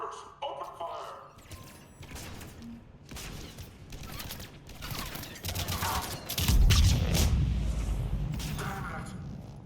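Gunfire and explosions from a firefight in Mass Effect 3 on Omega, scattered shots and thuds under in-game speech, building to a loud heavy blast near the end.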